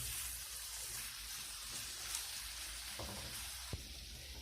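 Spinach and tomatoes fry in a pan with a steady, broad sizzle that holds evenly throughout, broken by a few soft clicks of stirring.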